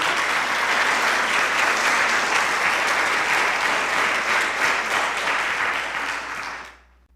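A church congregation at a Thanksgiving service applauds in a dense, sustained burst of clapping that continues steadily for several seconds before cutting off abruptly.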